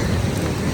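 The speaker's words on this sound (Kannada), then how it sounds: "ಮಳೆ" A short burst of heavy rain, a loud, dense wash of hissing noise pouring down without pause.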